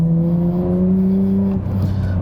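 A 1999 Nissan Skyline R34 GT-R V-Spec in Bayside Blue revs hard toward its 8000 RPM redline, a loud, steady rising engine note held close up that drops off briefly near the end before carrying on.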